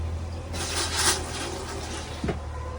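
A foot-pedal toilet flushing in a travel trailer RV: a brief rushing surge of water that swells and then fades, followed by a short gurgle, close and clear over a low steady hum.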